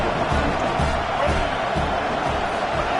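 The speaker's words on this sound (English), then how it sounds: "this crowd getting even more juice" A football crowd roars steadily in a stadium during a Houston Cougars game, loud and continuous with no distinct peaks, and there is a low rhythmic thumping underneath.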